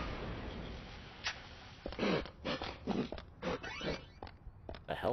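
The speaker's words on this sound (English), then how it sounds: "Dog coughing up a hairball." A dog in the video game Deadly Premonition hacks as if coughing up a hairball, giving a series of short, rough, snorting retches with a few quiet gaps between them.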